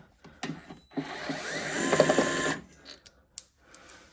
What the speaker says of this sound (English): I just need to take out the bolt here, and it should free up the entire HID system.